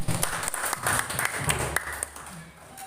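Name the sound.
applause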